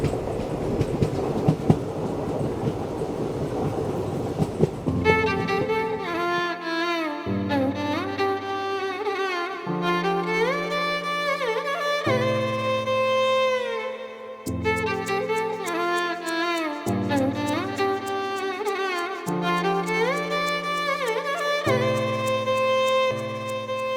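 The 16779 Rameswaram Express runs on its tracks from Tirupati toward Rameswaram, a steady loud rumble with rhythmic clickety-clack of wheels over rail joints, heard alone without talk alongside a strong continuous tonal drone that changes pitch in steps.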